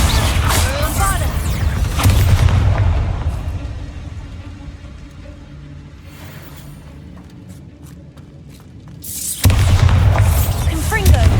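Bombarda explosion spell in a wizarding video game, with heavy booming blasts and rumbling low-end bursts at the start and again near the end, separated by a quieter stretch of scattered clicks and debris.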